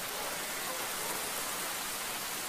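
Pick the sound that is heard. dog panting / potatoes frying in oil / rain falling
rain falling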